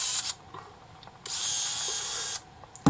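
Motorized zoom whir from a Canon Prima Zoom Shot film camera lens, heard as two thin, high-pitched electric buzzes, one brief at the start and a longer one of about a second in the middle, close up with quiet gaps between.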